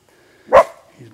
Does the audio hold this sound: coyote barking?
yes